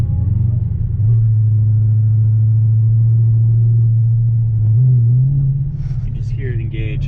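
Modified Dodge Hellcat with a supercharger, its deep engine rumble idling loudly up close while the throttle is tapped, bringing brief pitch rises and a whine near the end.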